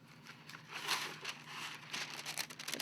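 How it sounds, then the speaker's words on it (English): A small sheet of wax paper crinkles and crackles up close, with quiet irregular rustling bursts and crisp crumpling peaks lasting a few seconds, without speech. "Just a small piece of wax paper will do."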